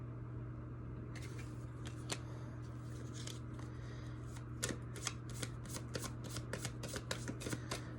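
Tarot cards are shuffled in quick, crisp riffling bursts close up over a faint steady hum. The shuffling starts softly and grows into a denser run of snappy card flicks toward the end.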